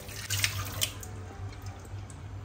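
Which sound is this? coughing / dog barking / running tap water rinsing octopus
running tap water rinsing octopus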